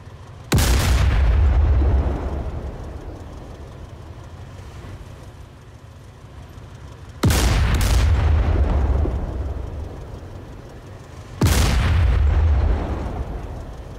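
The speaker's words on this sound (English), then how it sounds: "after 15 seconds, the mortar team will open fire on the SAM site" Three heavy artillery blasts from a mortar team firing on a SAM site in the DCS combat game, each a loud sudden boom with a long rumbling decay, spaced several seconds apart with no talking.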